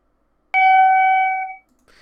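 A rising up chime for Skyscraper Simulator rings once, clear and loud, with a bell-like tone that sustains about a second and then fades to silence.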